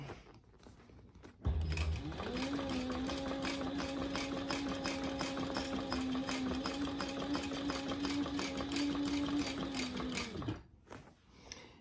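A sewing machine stitches a beginner's fabric bag with D-rings, a close, steady humming whir with a rapid needle rhythm running continuously for about nine seconds before winding down.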